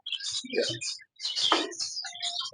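A female fawn Java sparrow gives a quick series of bright, close chirps and twittering notes, with a short gap in the middle and nothing else heard.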